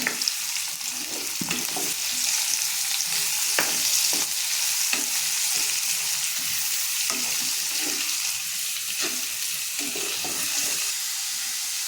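Onions for egg bhurji sizzle and fry in a pan, a loud, steady hiss close by with occasional stirring scrapes and clicks, and no speech.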